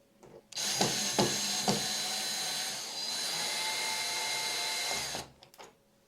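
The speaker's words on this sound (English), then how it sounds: "I wanted the drill." A power drill whirs close by in a sustained high-pitched run of several seconds, preceded by a few short bursts and ending abruptly.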